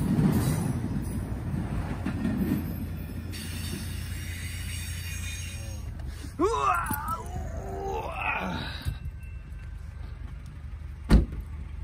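A long freight train rolls past at close range, a steady rumble and groaning rail noise with wheel squeals and a sharp clank near the end, no talk.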